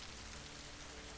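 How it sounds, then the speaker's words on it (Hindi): Heavy rain pours down in a steady, dense hiss that stays even and unbroken throughout, quiet and with no voices. "तभी जोर जोर से बरसात आने लगती है"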